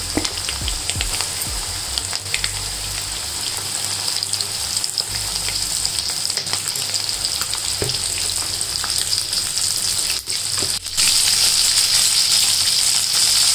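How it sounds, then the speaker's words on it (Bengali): Chicken wings deep-frying in very hot oil over a medium-high flame, KFC-style, make a loud, continuous crackling sizzle that holds steady and grows even louder near the end, with no voices. "এবারে চিকেন উইংসগুলো ভেজে নেব। তেল খুব গরম আছে, সাবধানে এগুলো দেবেন।"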